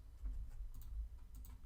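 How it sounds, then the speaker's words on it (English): Computer keyboard typing for a JavaScript typing game: a quiet, steady run of light key clicks with no voices. "We're able to do the typing."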